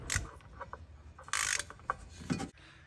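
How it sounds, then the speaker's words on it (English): Torque wrench tightening drive shaft bolts on a Ford Escape 1.5L, a few brief ratcheting clicks and metallic clanks nearby, with a short burst of bright rasping clicks in the middle, no talk. "Now torque all the drive shaft bolts to 35 Newton meters."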